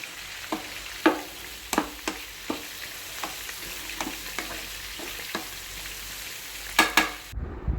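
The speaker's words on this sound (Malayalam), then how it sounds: "ഇനി നമുക്ക് തക്കാളി ഇട്ട് കൊടുക്കാം." Tomatoes for biryani fry in a pan, a low steady sizzle under distinct spatula scrapes and taps that come every second or so, close by, with a quick cluster of strokes near the end.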